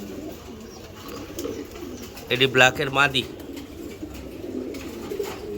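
Cooing from Giribaz pigeons in a loft runs low and steady underneath, while someone speaks briefly in the middle over the birds.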